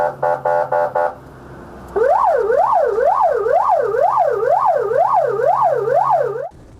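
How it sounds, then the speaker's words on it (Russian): Fire engine siren on a Komi road, starting with a few short rapid horn-like blasts, then a loud, close wailing siren sweeping up and down in steady regular cycles for several seconds before cutting off. "Огнеборцы со включенными сиренами-мигалками впереди"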